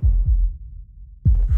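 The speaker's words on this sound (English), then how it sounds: "You hear that? That's the pulse" A heartbeat sound effect: two deep, loud lub-dub double thumps with a long low-rumbling pause between them, close and booming with no voices.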